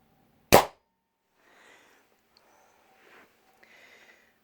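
An air rifle shot fired through a Skan chronograph gives a single sharp, loud crack near the start, followed by faint soft shuffling and handling noises.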